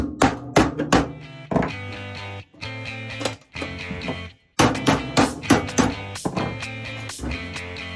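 Metal tabs on a homemade incinerator are hammered over with loud, ringing strikes, single blows and quick bursts of several hits separated by short pauses.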